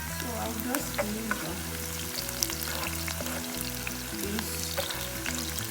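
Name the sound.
onion frying in oil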